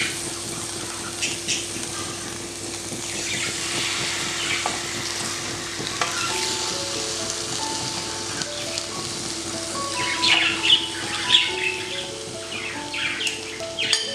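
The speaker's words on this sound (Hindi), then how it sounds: "अब जो फिलेस मैंने मैरिनेट किए थे उनको मैं इस ग्रिल पैन पे रख के और कवर करके इसको मीडियम लो फ्लेम पे मैंने लगाना है" Marinated chicken fillets sizzle steadily on a grill pan over a medium-low flame, a dense continuous frying hiss with scattered pops and a faint tonal hum underneath, no talking.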